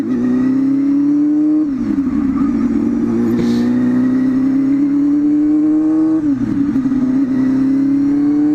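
A 600 motorcycle engine revs loud and close, holding a steady drone that dips and climbs back twice as the rider shifts.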